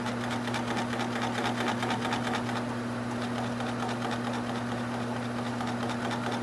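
A wood lathe spins an alder bowl blank with a steady, even motor hum and a fast rhythmic whir, continuous and fairly close throughout.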